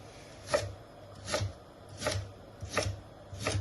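A knife chops rhubarb on a board for Yorkshire rhubarb chutney, five firm, evenly spaced thuds about a second apart, close and clear, with no talking.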